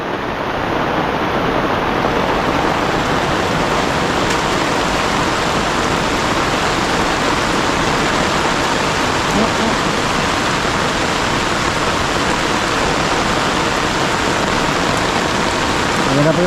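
Heavy rain pours steadily in the mountains, a dense, loud, unbroken hiss that lasts throughout with no pauses.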